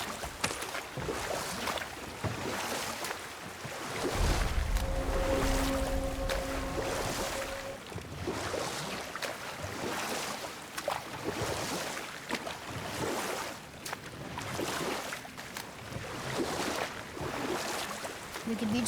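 Wooden boat rowed across water in the God of War (2018) video game, with soft oar splashes and water lapping beneath a low hum, interrupted midway by a brief tonal sound, with no talk.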